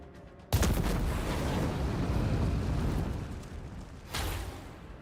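A grenade goes off in the Dark Heresy video game, a sudden heavy blast that rolls into a long, dense rumble before a second burst near the end, loud and close.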